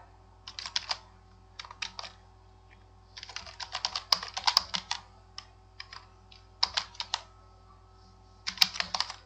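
Fingers tapping an admin email address into a computer keyboard, crisp close keystrokes in irregular bursts and short pauses, with no voices.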